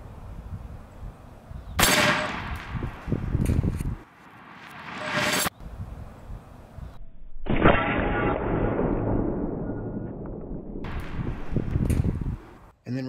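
A Serpent Arms 550L 28-gauge PCP air shotgun fires lead shot in two loud, sharp blasts several seconds apart, each followed by a hissing rush and rattling impacts, recorded outdoors.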